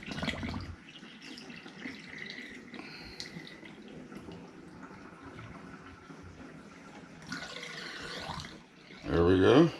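Bucket of water dumped into an RV gray tank, water pouring and splashing through the drain with a louder gush near the end, faint and close, with some talk.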